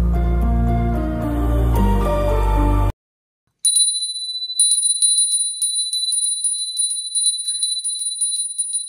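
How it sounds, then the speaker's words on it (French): A small bell rung several times after a break, giving bright, sustained high tones with repeated strikes. Before it comes a loud, low, resonant sound, and no one speaks. "On va faire teinter la petite cloche"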